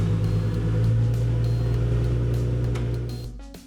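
A Ford Mustang engine idling steadily after a fuel pump install, a constant low rumble with a faint hum throughout, dropping off in the last half second.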